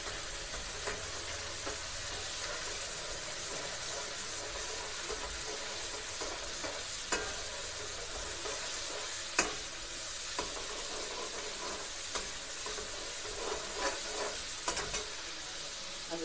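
Onions fry in a pan for aloo gobhi, giving a steady, close sizzle throughout with scattered scraping clicks as a spoon stirs them.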